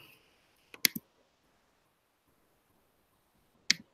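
A computer mouse clicks a few times at a desk: a quick pair of sharp clicks near the start, then quiet, then one more click near the end, close and distinct with no talking.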